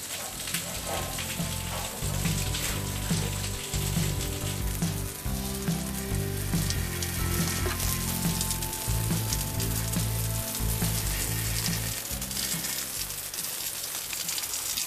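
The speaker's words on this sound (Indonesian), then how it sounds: "Setelah beberapa menit, kita siram dulu secara lembut." Water sprays gently and steadily onto the outdoor condenser unit of a Sharp home air conditioner during cleaning, a continuous close hiss lasting the whole stretch with a low steady hum underneath.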